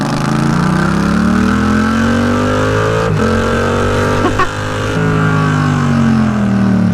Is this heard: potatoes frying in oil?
no